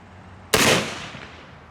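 A flare gun fires once, a single sharp pop with a hissing burst that fades over about a second, heard outdoors at close range after a quiet moment.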